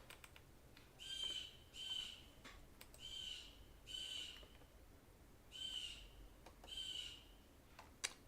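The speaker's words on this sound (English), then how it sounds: "this bird just came in and started going crazy" A bird calls loudly outdoors in repeated bursts of harsh, squawking notes at a steady rhythm, roughly one burst per second, over quiet background.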